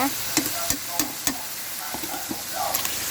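Roasted chili paste being stir-fried for seafood tom yum fried rice, with a spatula scraping and knocking the pan in irregular strokes over a steady low sizzle, close and moderately loud.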